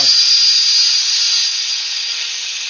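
A Milwaukee cordless drill on a high-output 5.0 battery bores steadily through wood, its bit grinding through a reused hole in one loud, continuous whir that eases slightly in pitch and level over a few seconds, with no talking.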